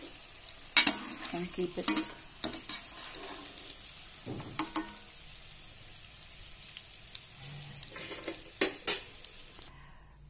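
Vermicelli frying in hot oil for sevai upma makes a soft continuous sizzle under repeated scraping and clanking of a utensil against the pan, with a few quiet spoken words partway through.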